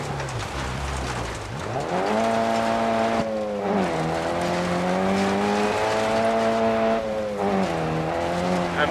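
A rally car in the DiRT Rally video game races a gravel stage in Värmland, Sweden, engine revving loudly through gear changes with a brief tyre-locking skid, close and continuous.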